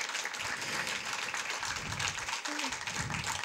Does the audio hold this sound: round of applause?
yes